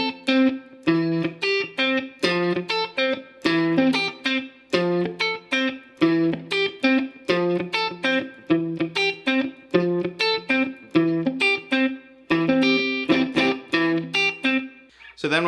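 An electric guitar slowly plays the chord part of a song through effects, each chord ringing out with a shimmering, slightly distorted tone in a steady looping pattern, clear and alone.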